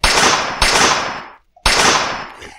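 Three loud submachine gun shots in a video game fire in quick succession, each with a sharp crack and decaying tail, a brief pause before the last.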